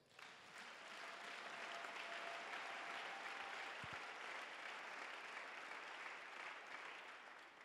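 A church congregation applauding during a sermon, a dense, sustained wash of clapping from many hands heard at a moderate distance for several seconds, with a faint voice briefly underneath.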